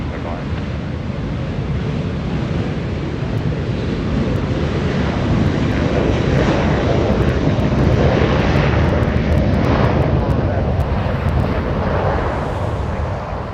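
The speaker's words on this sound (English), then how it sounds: "let's go to Delta, the 737 right now getting a move on" A Delta Boeing 737 jet departs Los Angeles airport with a steady, heavy roar mixed with wind noise that swells slightly mid-way, while faint voices sit beneath it.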